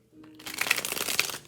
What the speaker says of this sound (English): The cards actually shuffle very lovely, very easily.